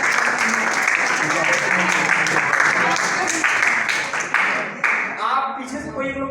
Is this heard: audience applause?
yes